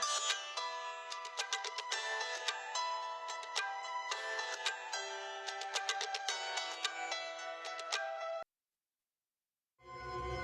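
A mobile phone ringtone plays as an incoming call arrives on a wife's handset, a steady melodic electronic tune looping for about eight seconds before cutting off into silence, followed by a brief rumble.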